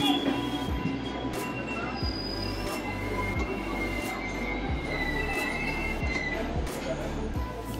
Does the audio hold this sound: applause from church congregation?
no